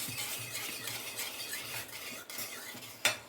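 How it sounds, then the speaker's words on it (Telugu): A spoon stirs rava cake batter with cardamom and powdered sugar in a bowl, giving a steady, close scraping and swishing rhythm with a sharp clink near the end. "ఇప్పుడు ఇందులో యాలకులు పంచదార పౌడర్ చేసుకున్న ఇదంతా వేసేస్తాం మళ్ళీ ఇది కూడా కలపాలి"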